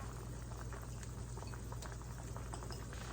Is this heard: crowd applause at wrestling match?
no